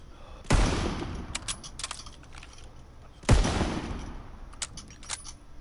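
Two loud sniper rifle shots in the video game Call of Duty WW2, a few seconds apart, each a sharp blast with a booming tail, followed by faint clicks of reloading.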